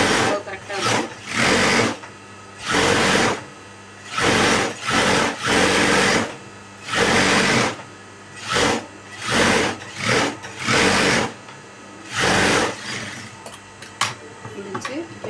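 A sewing machine stitches a patchwork blouse in repeated bursts of fast, rhythmic whirring, each run lasting a second or so and separated by short pauses, close and loud.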